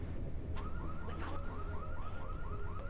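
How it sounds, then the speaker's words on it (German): A car alarm goes off in the video game GTA III, its rapid, repeating whoops steady and continuous over a low rumbling engine bed. "das ist das Auto von meinem Chef und der Alarmanlage geht an"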